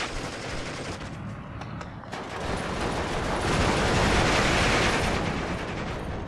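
Gunfire and machine guns from a Steel Division 2 WWII strategy battle, a dense continuous rattle of distant shooting that swells louder midway and holds steady.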